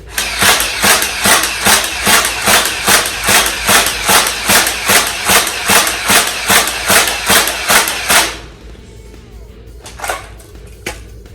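Nerf Icon Series Stampede blaster firing full-auto, a rapid, evenly spaced run of about twenty loud mechanical thumps that stops suddenly, followed by a couple of faint clicks.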